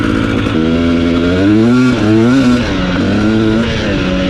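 A 2021 KTM 250 XC TPI fuel-injected two-stroke dirt bike engine revs loudly and close, its pitch rising and falling through several throttle blips with a buzzy, raspy tone.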